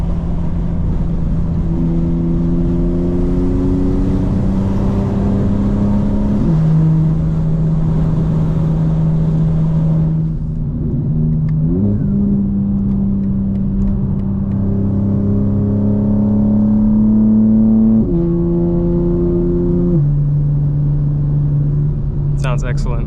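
Inside a tuned 2025 BMW M4 Competition xDrive running an MHD flash tune, the engine drones steadily while accelerating on the road, pitch stepping up through gear changes, heard from the cabin with the windows up.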